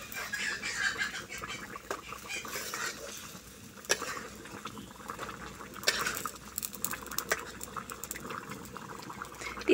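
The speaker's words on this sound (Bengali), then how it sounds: "তো তরকারি আমার বলক উঠে গেছে।" A pot of tilapia and okra curry boiling steadily, a continuous bubbling hiss with a few sharp clinks of a spoon stirring against the pot, close by with no talking.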